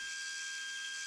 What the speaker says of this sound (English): I'm feeding very carefully because these are blind holes and this is actually a hand reamer